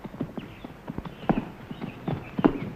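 Horses approach on a road in a medieval-style King Arthur adventure series, hooves clip-clopping in an uneven walking rhythm at moderate loudness, with faint background sound and no speech.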